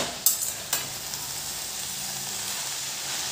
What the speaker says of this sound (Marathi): गॅस फास्ट ठेवायचा आणि हलवायची जेणेकरून लवकर ती